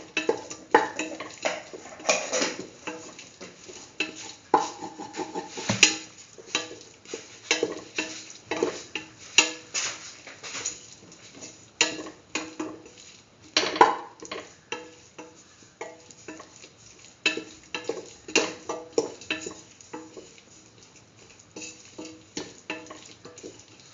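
Turmeric and cumin being stirred into a tomato stew in a pot, with repeated clinks and scrapes of a utensil against metal over a soft bubbling sizzle, close and irregular.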